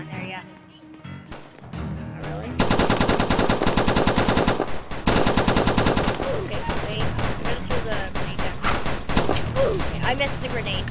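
P90 gunfire in a Roblox squad shooter: loud, sustained automatic bursts with rapid rhythmic shots, brief pauses between volleys, and softer in-game sounds and a voice underneath.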